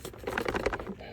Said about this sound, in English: As of now, there's a little rattling here.